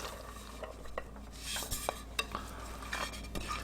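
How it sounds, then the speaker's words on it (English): Chopped onions, celery and pickles tumble into a tuna macaroni salad, with clinking of a spoon against a bowl and soft scraping and stirring, close and fairly quiet with no voices. "We have already cut up our onions, our celery, and our pickles. Now let's add it all in."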